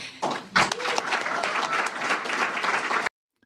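An audience applauds after a line in a Florida political speech, a dense, steady wash of clapping that rises quickly, holds loud for about three seconds and then cuts off abruptly.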